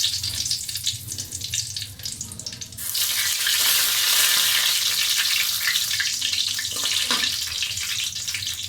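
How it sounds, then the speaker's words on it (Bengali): Dried red chillies hit hot mustard oil in a wok, a loud, continuous hissing sizzle that surges partway through and stays strong, with faint clatter underneath. "কড়াইয়ে সরষের তেল দিয়ে দিয়েছি। এখন দিয়ে দিলাম দুটো শুকনো মরিচ"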